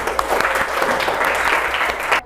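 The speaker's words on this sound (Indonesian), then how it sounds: "Tepuk tangan dulu untuk semuanya" Applause from a classroom audience of students after group presentations in a singing lesson, dense clapping holding steady for a couple of seconds at close range.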